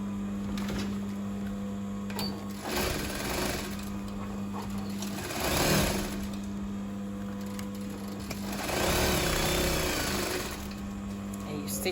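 A sewing machine stitches the sides of a gathered top in several bursts of rapid whirring, with a steady motor hum between runs and some background noise around it.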